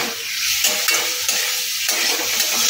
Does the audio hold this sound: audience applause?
no